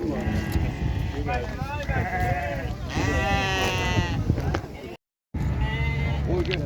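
Sheep and lambs bleat repeatedly over a busy, noisy livestock market crowd in Khachmaz, Azerbaijan, with people haggling throughout, the calls loud and overlapping, then a brief cut.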